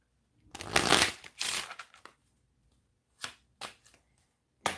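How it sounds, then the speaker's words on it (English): A deck of cards is riffled twice in quick bursts, followed by a few lighter taps and flicks as the cards settle, close and quiet. "And one more shuffle for you, Miss Wu."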